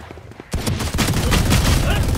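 Bursts of M249 machine-gun fire in a video game: a quiet start, then from about half a second a loud, dense rattle of rapid shots that continues to the end of the short clip.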